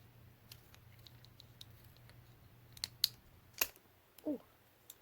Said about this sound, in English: and then you're going to cut that again.